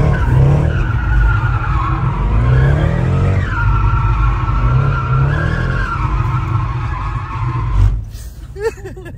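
A car burns its tyres while skidding around roundabouts, producing a loud, sustained tyre squeal with engine noise that wavers in pitch for about eight seconds before cutting off abruptly.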